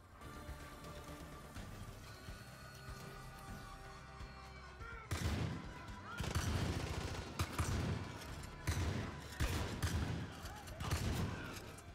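Gunfire in Far Cry 5, starting as a quieter, muffled game scene and then breaking into loud, repeated bursts of shots and heavy impacts in the second half.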